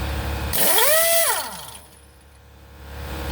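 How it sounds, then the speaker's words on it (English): A Harbor Freight impact wrench fires a short loud burst of hammering whine on a bolt during a Jeep WJ steering box install, then winds down and falls quiet. "Our Harbor Freight impact wrench is not getting the bolt out."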